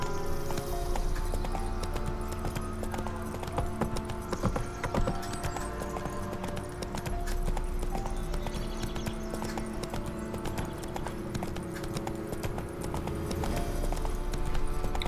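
The horse Roach clip-clops steadily along in the video game The Witcher 3: Wild Hunt, a continuous even rhythm of hoofbeats over ambient game hum, with no talk over it.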